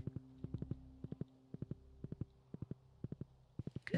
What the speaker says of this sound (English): Now I'm gonna get on the horse.